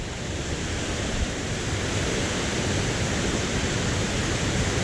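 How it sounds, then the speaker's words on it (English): Waterfall on the Dosewallips River in Washington, a loud unbroken roar of rushing, crashing water heard close with no voices. "This is probably the most spectacular waterfall I've been to here in Washington."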